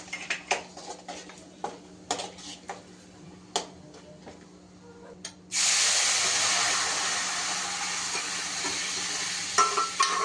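Spices hit hot oil for a dal tadka with a sudden loud, steady sizzle that runs to the end, preceded by a few seconds of sharp clinks and taps of a spoon against the pan.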